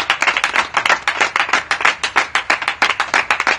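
A congregation claps in steady, rapid rhythm for Jesus during a French-language church exhortation, loud and close, with no talking over it.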